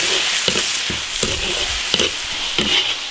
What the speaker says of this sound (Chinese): 牛肉炒香了，加辣椒。